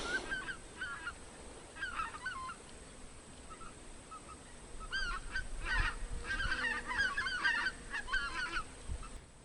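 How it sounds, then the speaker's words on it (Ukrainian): Geese arriving at a reservoir bay honk in several bursts, some farther off and some closer, over a quiet outdoor background with low rumbling. "Ну, гуси прилетіли."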